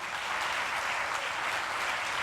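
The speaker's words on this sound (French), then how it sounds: "je vous laisse un peu de temps pour applaudir Marie Toussaint" Steady, dense applause from an audience at a French political party speech, a continuous wash of clapping with no voices over it.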